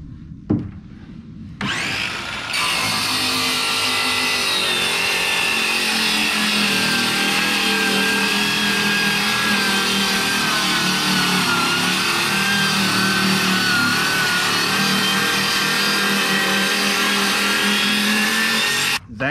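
A Ford Raptor truck engine runs loud and steady, rising into a sustained revving roar that holds for most of the stretch after a brief quieter start, with no talking over it.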